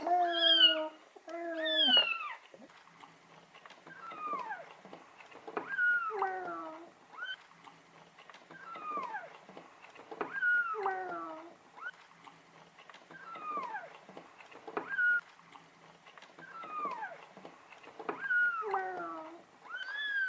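Several cats meow repeatedly at a temple in Changchun, China, a series of clear, close, drawn-out cries spaced a few seconds apart with quiet gaps between them.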